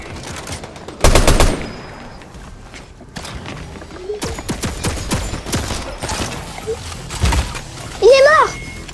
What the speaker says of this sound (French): je lance ma tourelle.